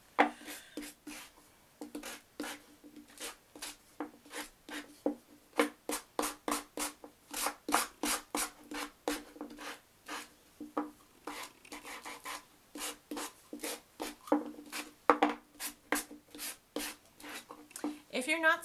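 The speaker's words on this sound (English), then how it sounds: "when you sand on an angle like this so that it's very straight" Sandpaper rubs over the finished edges of a wooden bagatelle box to distress them, making a long series of close, rhythmic scratchy strokes with short pauses between them.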